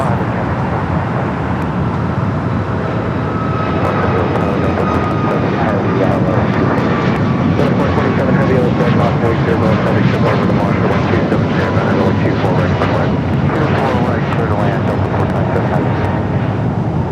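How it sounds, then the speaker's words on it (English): A Boeing 737 MAX 9 jet airliner roars steadily at LAX airport, a loud, sustained engine rumble with a rising whine that stays dense throughout. A voice talks over it. "That was Alaska Flight 349 heading to Spokane, Washington, a 737 MAX 9."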